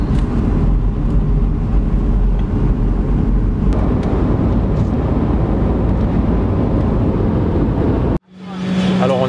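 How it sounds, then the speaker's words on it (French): Steady, loud broadband roar fills a passenger airplane cabin near Athens, Greece, holding constant for about eight seconds before cutting off abruptly. "Alors on est dans l'avion là"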